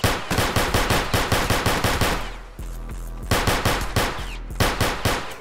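Rapid gunfire rings out on a South Bronx street, loud machine-gun-like bursts of close-spaced shots that break briefly midway, then resume at the same fierce pace.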